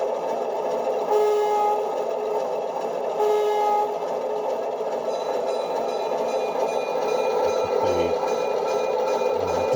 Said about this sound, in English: this is the ESU decoder with the German V36 diesel, shunting diesel sound file.